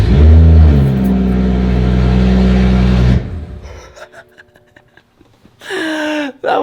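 A BMW 435i engine with no exhaust fitted revs hard and loud for about three seconds, then drops away, and a second sharp, raspy blip follows near the end. The sound is close and harsh.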